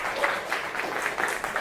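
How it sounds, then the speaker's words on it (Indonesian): A class of students claps together in a short burst of dense, fairly close applause that keeps an even level throughout. "Tepuk tangan untuk orang yang luar biasa seperti kalian."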